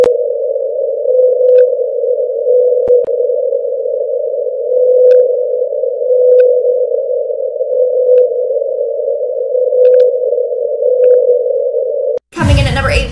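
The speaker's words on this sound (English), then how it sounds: "It literally sounds like this whale is crying out for help." A steady, unbroken tone plays for about twelve seconds, presented as the 52-hertz whale call and sped up so that it sits much higher. It cuts off abruptly into a short burst of noise.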